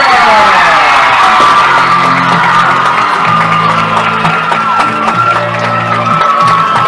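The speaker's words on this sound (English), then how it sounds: "Everyone, a round of applause for all the candidates tonight." A high-school homecoming crowd cheers and claps for the newly crowned homecoming queen, loud whoops and yells over steady applause, with a sustained tonal sound running underneath.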